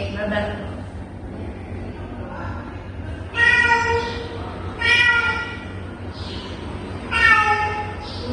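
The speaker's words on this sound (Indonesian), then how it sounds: "Suara apa? Kucing." A domestic cat meows three times in distinct, drawn-out calls, clear and fairly close, over a steady background hum.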